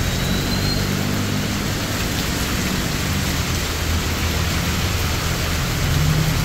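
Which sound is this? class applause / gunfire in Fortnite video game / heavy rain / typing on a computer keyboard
heavy rain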